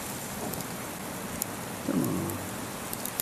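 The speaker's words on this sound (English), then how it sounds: "small hail. Check that out." Small hail at Shooters Hill pattering steadily on surfaces in a continuous hiss, with a brief low rumble and a short spoken exclamation nearby.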